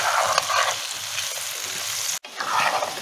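Potatoes frying in a pan, a dense, loud sizzling hiss that stays steady, broken by a brief silent gap just past two seconds before the sizzle returns.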